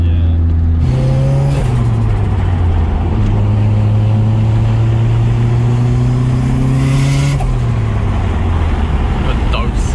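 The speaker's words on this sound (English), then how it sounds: "These turbos do seem to have a bit of a loud dose and whistle to them." A turbocharged 2JZ-engined Nissan Silvia S15 street car, about 700 hp, runs loudly up close, its engine note rising and falling through revs, with turbo whistle and blow-off dose in the mix and voices talking over it.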